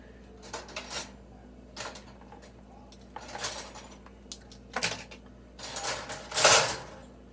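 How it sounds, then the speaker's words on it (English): Silverware is put away at home, with bursts of metal cutlery clinking and rattling against each other and into a drawer or tray, loud and close, separated by short pauses. "Put the silverware away that I have over here."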